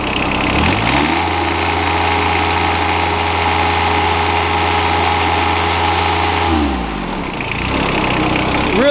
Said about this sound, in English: Really nice sounding engine.